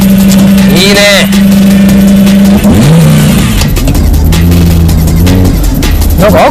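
A sports car engine is blipped by throttle in sharp rising-and-falling revs over a strong idle, loud and close, with talk during the revving.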